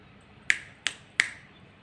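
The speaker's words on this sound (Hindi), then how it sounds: "तीन चुटकी" Three crisp finger snaps, close and clear, evenly spaced over under two seconds against a quiet background.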